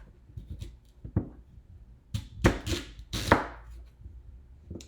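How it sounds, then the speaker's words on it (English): A knife chops through a vegetable on a cutting board, first trimming the ends and then halving it, giving a few sharp, close thuds and crunchy slices scattered among quieter handling noises, with no talking. "So I cut the ends off first, and then I'm going to go ahead and cut it in half."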